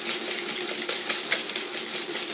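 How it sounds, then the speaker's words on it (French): Almond cream ingredients for almond pains au chocolat whisked briskly by hand in a bowl, a steady fast scraping and clicking rhythm that continues unbroken and close, with no talking. "On va bien mélanger pour blanchir les deux ingrédients ensemble."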